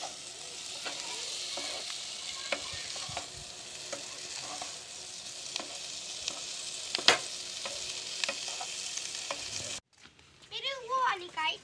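A spiced dry potato masala with coriander stirred in a pan: soft continuous sizzling with regular spatula scrapes and taps, then a brief stretch of speech near the end.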